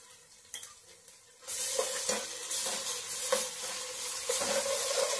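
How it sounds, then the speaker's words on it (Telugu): Ginger-garlic paste hits hot oil in a pan for vegetable pulao and sets off a loud, steady sizzle after a quiet start with a few soft clinks. The frying goes on without a break, and a spoon stirs through it now and then. "అల్లం చిన్నులపాయలు పేస్ట్ వేస్తున్నాను ఇందులో"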